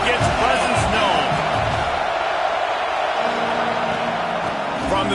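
Large football stadium crowd at a college football game roars steadily throughout, a dense continuous wall of cheering with some whoops rising above the din.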